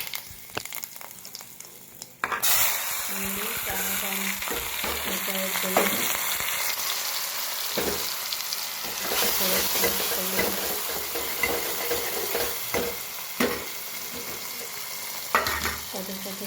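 Mustard and cumin seeds are tempered in hot oil for sambar, a loud steady sizzle and crackle running throughout after a quieter start, with occasional clinks of a spoon against the pan.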